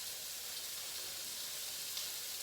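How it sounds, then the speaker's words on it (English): Sliced onions hit a hot pan with butter and olive oil and sizzle in a steady, dense hiss that holds level throughout, close and even, with no voices. "those sliced onions that we had earlier are going into the hot pan"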